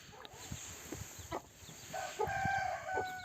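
Gurk Indian hens cluck in short bursts close by while a rooster lets out a sustained crow partway through, with more clucking continuing around it.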